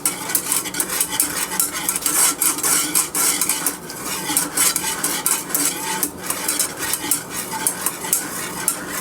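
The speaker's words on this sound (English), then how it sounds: "boil like that and keep stirring for about 5 to 8 minutes" A spoon scraping and stirring a boiling egg custard pie filling in a pot, giving continuous rhythmic metal-on-pot rasps and sloshing, close and steady with no talk.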